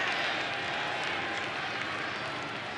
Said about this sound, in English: Nervous crowd.